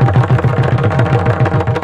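A pakhawaj drum is played during devotional kirtan at an Akhand Harinam Saptah gathering. Loud, steady strokes land in a quick even rhythm, with low booming beats repeating throughout.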